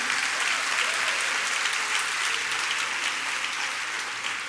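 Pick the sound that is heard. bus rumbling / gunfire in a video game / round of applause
round of applause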